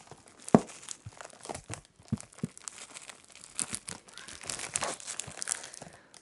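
Crinkly old-school parcel packaging, likely paper or plastic wrapping from a box of British goodies, handled close up in soft, irregular crackles and crumples with brief tearing rustles, quiet and alone.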